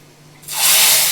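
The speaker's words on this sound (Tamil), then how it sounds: "எண்ணெயும் கடுகும் போட்டு பொரிஞ்சதும் இந்த குழம்புல வந்து" Hot oil with popped mustard seeds poured into sodhi gravy, a sudden loud, close sizzling hiss that bursts up and holds steady.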